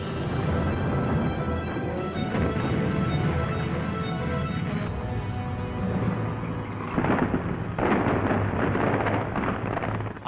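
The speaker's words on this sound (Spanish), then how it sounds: "las tropas alemanas oyen cañonazos distantes procedentes del noroeste y del sur" Distant artillery fire at Stalingrad as the Soviet counteroffensive begins, heavy rumbling booms rolling one after another with a couple of sharper blasts toward the end, loud and continuous.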